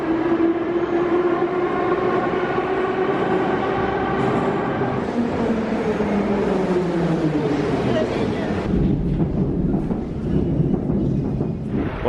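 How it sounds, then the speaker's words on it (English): A subway train runs through a very deep Kyiv metro station, giving a loud, continuous rumble with a whining tone that glides down in pitch, and a drop in the noise near the end as the train slows. "We're hopping on the subway right now."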